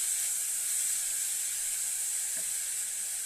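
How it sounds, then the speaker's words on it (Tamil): Grated carrots sauté in a pan on a low flame for carrot kheer, a steady soft sizzle and hiss that holds evenly throughout with no talking. "லோ ஃப்ளேமில் வச்சு அப்படியே நல்லா வதக்கி விட்டுறலாம்"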